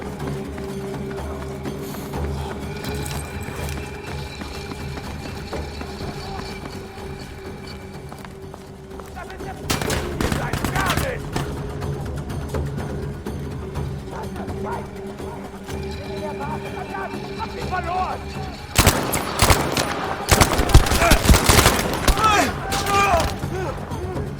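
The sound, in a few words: gunfire in the video game Battlefield 5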